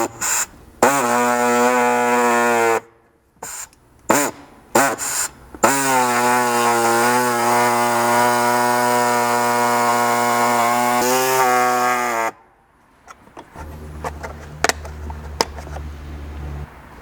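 Pneumatic air saw cutting a plastic MOLLE panel in a Bronco, a loud close rasping whine in bursts with short gaps, then a long steady cut that stops abruptly, leaving faint handling clicks.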